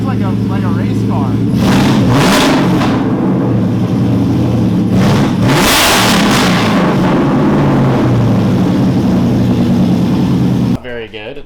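A Whipple-supercharged Mustang GT with a Valvetronic Designs active exhaust revs hard, loud, close and raspy, climbing in repeated surges over a rumbling idle, with people talking around it, before cutting off abruptly at the end.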